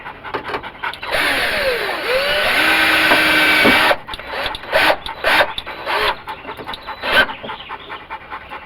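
A power driver sinks a self-tapping screw into the sheet metal behind the dash of a 1980 Dodge D150 truck, giving a loud, rising motor whine for a few seconds, then short bursts of buzzing.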